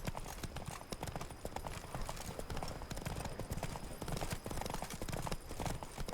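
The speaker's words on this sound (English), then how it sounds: "Run, Roach." Horse hooves gallop in a steady, rapid clip-clop rhythm across open ground in The Witcher 3 video game, close and loud throughout, with faint game ambience beneath.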